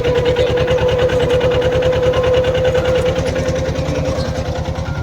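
A tractor crawls slowly while drawing a seed drill that sows summer pearl millet in a field, its engine giving a steady, close, rapid throbbing chug with an even rhythm throughout.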